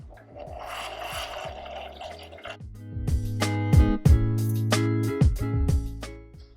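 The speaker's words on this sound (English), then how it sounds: "Just gonna add a little bit of milk and get that steamed." Milk steamed for a tea latte with an espresso machine's steam wand: a hissing, gurgling rush at first, then a series of loud rhythmic knocks and clunks with tonal squeals as the jug is worked.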